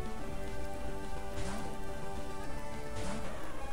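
Rain weather effect in the Pokemon Grass Jewel video game, a continuous hiss of falling rain and patter of drops alongside steady tonal game music, with brief brighter splashes midway and near the end.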